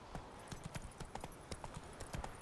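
Roach, the horse from The Witcher 3, gallops in a steady clip-clop rhythm of hoofbeats, close and moderately loud, with no talking over it.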